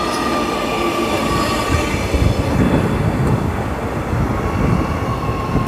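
Transwa railcar set 108 pulling into East Perth station, a steady loud rumble of wheels and engine with faint squealing, heard close and continuous without speech.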